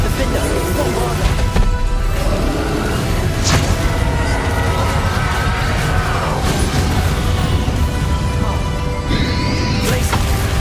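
Confringo and Bombarda spell impacts from the Hogwarts Legacy video game, a steady barrage of booming, crashing blasts and whooshes packed tightly together over a constant loud game soundscape, with a voice speaking among them.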